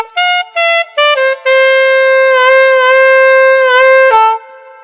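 An alto saxophone plays a song's riff, its sustained notes bent by dropping the lip, starting with a few short separated phrases and then one long held line, loud and close with no talking.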